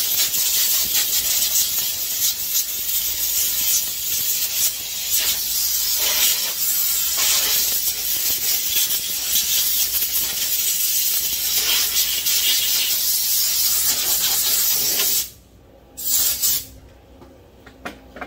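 Compressed air hisses steadily and loudly while blowing debris off a Pro Mac chainsaw being torn down, a continuous rushing blast that cuts out near the end, then gives a couple of short bursts.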